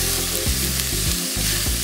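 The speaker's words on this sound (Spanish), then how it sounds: "Sofreímos el tomate." Tomato sofrito frying in a pan while a rice dish with rabbit, cuttlefish and vegetables is made, giving a steady, close, dense sizzle with a few brief dips, no talking.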